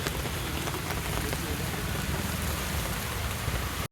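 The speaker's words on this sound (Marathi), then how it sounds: "फुल म्हणजे असं जोरात वगैरे पाऊस चालू आहे." Heavy rain pours steadily during a roadside padyatra procession for the Ekveera Aai palkhi from Malad to Sanpada, a dense, loud, continuous wash of drops with faint voices mixed in beneath it.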